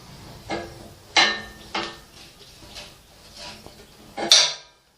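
Metal spanner clanks during assembly of a liquid mixer, as bolts holding the gear spindle are tightened with a 17 spanner; five or six sharp, close metallic knocks come at irregular intervals with quiet gaps between.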